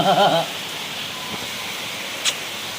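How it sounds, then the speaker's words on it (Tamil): Heavy downpour at a home, a steady broadband hiss of rain running throughout, with a brief voice at the very start and a faint tap near the end. "புயலு கூட இவ்வளோ மழை பெய்யல அவ்வளோ ஒரு பயங்கர மழை பெஞ்சுருக்கு"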